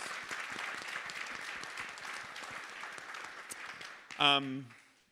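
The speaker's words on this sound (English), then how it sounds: "Yeah, round of applause." Steady applause from a conference audience at a BC Beer Con workplace panel, holding evenly for several seconds before a short voice cuts in near the end.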